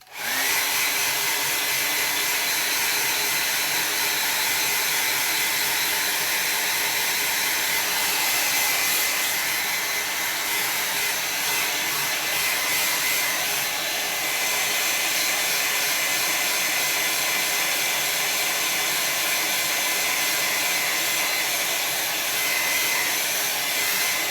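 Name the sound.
blow dryer drying paint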